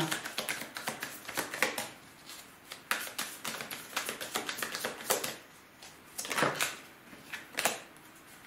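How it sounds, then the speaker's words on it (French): Tarot cards being handled and drawn one after another, a quick run of close, crisp taps, flicks and shuffling snaps, uneven in rhythm and moderately loud. "pour les poissons, on va tirer 9 cartes."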